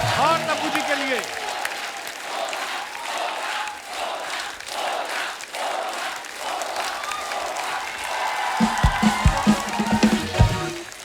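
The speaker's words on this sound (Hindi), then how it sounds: "जोरदार तालियां हो जाए" A TV studio audience claps and cheers loudly in a comedy show setting, the applause swelling and staying dense, with voices calling out over it near the end.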